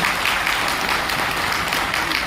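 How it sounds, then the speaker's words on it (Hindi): Audience clapping at an AWPL business presentation, a dense, even burst of applause filling the short span at a fairly loud level, with no speech over it. "तो जोरदार तालियां होनी चाहिए।"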